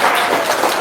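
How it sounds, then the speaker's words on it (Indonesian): A brief, loud burst of audience clapping at an Indonesian talk gathering, a dense wash of hand claps lasting under a second with no voices over it. "Tepuk tangan dong."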